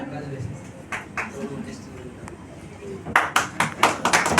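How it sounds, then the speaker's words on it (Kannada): A burst of clapping breaks out near the end, several people applauding a guest welcomed at a supermarket event after a stretch of quieter background talk. "ಎಲ್ಲರ ಜೋರಾದ ಚಪ್ಪಾಳೆಯೊಂದಿಗೆ ನಾವು ಸರ್ನ ಅಭಿನಂದಿಸೋಣ"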